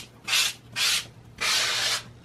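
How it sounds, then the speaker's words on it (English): Pastel being rubbed into a large painting, producing three scratchy, rasping strokes, close and fairly loud, separated by brief pauses, with the last stroke longer than the first two. "I'm going to just rub it in. It's very scratchy."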